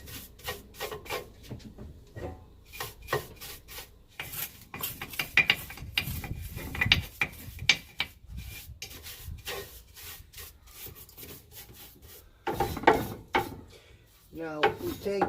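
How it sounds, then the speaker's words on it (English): Ash being brushed off the inside of a Monolith Kamado ceramic grill, a series of scratchy bristle strokes and rubbing scrapes in irregular bursts, close and moderately loud, with occasional knocks of parts being handled. "All these can be brushed off."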